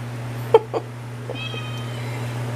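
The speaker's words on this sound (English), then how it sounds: "That's my kitty cat." A cat meows twice in quick succession, close and fairly loud, then a fainter mew follows over a steady low kitchen hum, with no talking.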